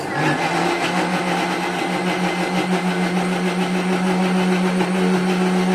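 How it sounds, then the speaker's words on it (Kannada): A mixer grinder grinding ingredients for paneer butter masala whirs with a loud, steady motor hum and rattle, running continuously from start to finish. "ಮಿಕ್ಸಿ ಜಾರ್ ಒಳಗೆ ಹಾಕಿ ರುಬ್ಬೋಣ."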